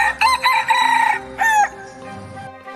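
A red junglefowl crows loudly and close by, a harsh rising call repeated in a couple of bursts, with faint clucking after.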